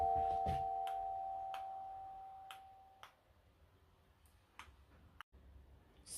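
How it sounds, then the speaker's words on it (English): A doorbell at a home rings as a gardener arrives: a faint indoor chime with sustained tones fading over the first few seconds, followed by scattered light clicks and ticks in a quiet room. "Rung on the doorbell."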